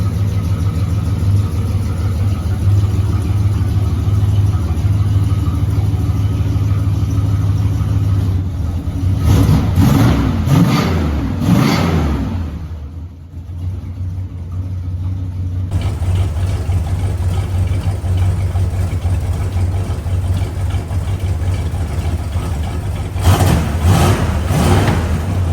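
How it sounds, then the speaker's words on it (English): A big-block V8 in a 1970 Dodge Charger on stock exhaust rumbles at a steady, deep idle, with a couple of short rev bursts rising over it. "This is what it currently sounds like with the stock exhaust."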